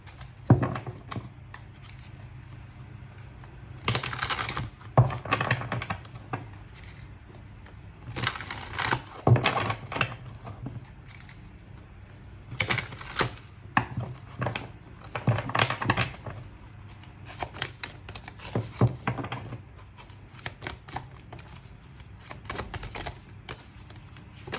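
Oracle cards are shuffled by hand in repeated bursts of riffling and papery slapping, close and moderately loud, with brief pauses between rounds.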